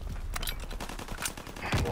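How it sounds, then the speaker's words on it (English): Rapid gunfire in Call of Duty: WWII on the Pointe du Hoc map, a dense burst of repeated shots filling the two seconds at steady loudness. "I'm shooting everything right now."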